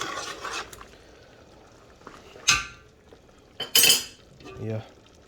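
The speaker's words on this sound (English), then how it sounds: "It's good to keep stirring it so that it doesn't get stuck at the bottom" A spoon scrapes and clinks against a pot of chicken or beef biryani in a few separate strokes, close and fairly loud with quiet gaps between them.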